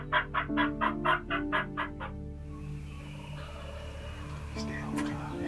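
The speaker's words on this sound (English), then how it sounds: "There's a lot of gobbling already." Several wild turkeys gobble in the field during a turkey hunt, a run of loud rapid gobbles close by at first, then quieter distant calls answering against an open outdoor background.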